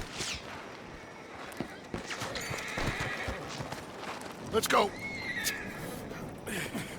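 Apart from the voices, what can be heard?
horses from a coach neighing and trotting, Red Dead Redemption II video game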